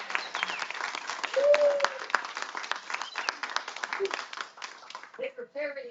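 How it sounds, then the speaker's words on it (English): A cooking-competition audience claps for two contestants, the individual hand claps distinct and uneven, while voices talk and call out over them and a brief tonal sound rises near the end. "Let's give you 2 ladies a hand of round of applause"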